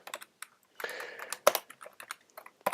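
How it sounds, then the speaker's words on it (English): Irregular bursts of keystrokes on a computer keyboard, typed close up with short pauses between quick clusters of clicks, in an otherwise quiet room with no voices. "I cannot type today."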